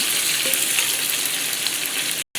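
Sliced onions and green chillies with curry leaves fry in hot oil for a spicy brinjal fry, a steady, close, continuous sizzle and crackle that holds evenly throughout and then cuts off abruptly at the end.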